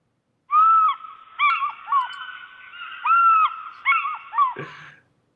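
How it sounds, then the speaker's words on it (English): A seagull sound effect: a run of loud, close, high mewing calls repeated in quick bursts over about four seconds, alone with no talk. "that sounds like seagulls to me"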